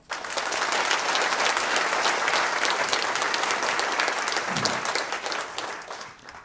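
Sustained audience applause at a university event, dense and steady for about six seconds before tapering off at the end, with no speech over it.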